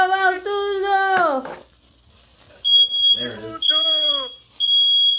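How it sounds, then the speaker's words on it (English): Birthday candle smoke sets off a smoke alarm, which sounds a series of shrill, high electronic beeps in loud bursts, with people cheering and talking before and between the tones. "we just got our fire alarm on because of the candle"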